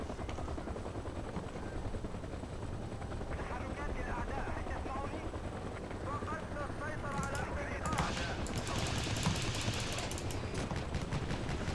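An enemy helicopter in Battlefield 2, on the Gulf of Oman map during online multiplayer, makes a steady, loud rotor roar over bursts of gunfire, with voices mixed into the dense battle noise.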